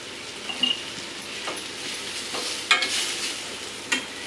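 Ginger, garlic and curry leaves sautéing in a pan for paneer butter masala give a low sizzle broken by several sharp spatula scrapes and stirring strokes at irregular intervals.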